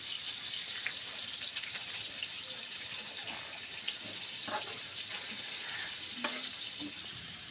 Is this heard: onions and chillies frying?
yes